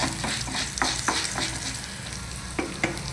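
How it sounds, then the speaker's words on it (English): Ginger, dals and mild Bydagi chilies fry in a pan with a steady, close sizzle, broken by occasional scraping stirs. "fry till the ginger is well fried and the dals and chilies are also"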